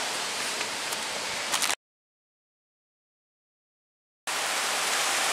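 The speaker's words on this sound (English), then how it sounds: "It's pouring like crazy out here right now." Heavy rain pours down outdoors during a front brake and rotor job on a 2007 Chevrolet TrailBlazer, a loud, steady broadband hiss that cuts to silence for about two and a half seconds before resuming just as strongly.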